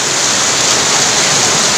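Very heavy afternoon rain pours down in a loud, dense, unbroken hiss, close by and steady throughout the short stretch.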